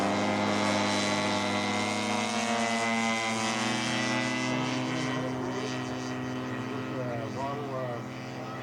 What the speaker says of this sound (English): Greg Thomas with his Spitfire.